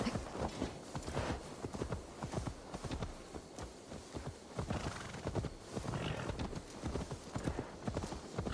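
Horse hooves clip-clop steadily through the Assassin's Creed Valhalla game world, a close, rhythmic trot with an occasional neigh, the beats running evenly for several seconds over faint ambient game sound.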